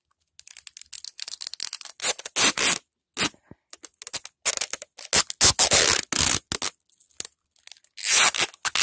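Adhesive tape ripped and pulled from a roll in repeated close, crackling bursts with short pauses, while a surface is being prepared against ants; no one speaks.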